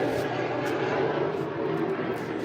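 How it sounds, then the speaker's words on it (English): A fixed-wing airplane passes overhead in an outdoor setting, a steady broad engine roar that holds at a fairly loud level through the short stretch without any talk. "These airplanes are so rude."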